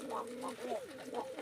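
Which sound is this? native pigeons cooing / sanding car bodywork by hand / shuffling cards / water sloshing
native pigeons cooing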